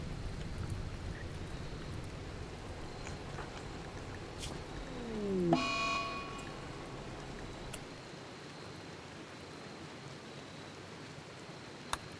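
Steady rainfall in a RimWorld colony, a continuous soft hiss that runs the whole way through, with one brief rising electronic chirp partway in.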